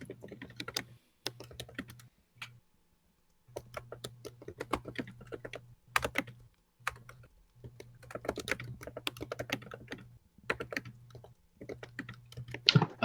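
Rapid clicking of typing on a computer keyboard comes in bursts separated by short pauses, with a steady low hum underneath and no voices, during a tabletop roleplaying game session.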